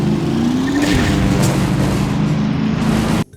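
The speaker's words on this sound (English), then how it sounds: "the sound that plays every time you successfully perform a crash technique." A crash sound effect from the game Destruction Derby: a loud, dense burst of engine roar and crunching noise lasts about three seconds, then cuts off abruptly.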